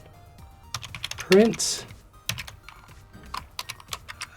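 Fingers type code for an Arduino temperature sensor project on a computer keyboard, producing quick irregular clusters of key clicks while a person talks over them.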